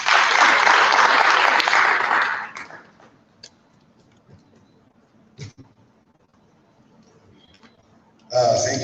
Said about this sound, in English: Let's give him a big round of applause, shall we?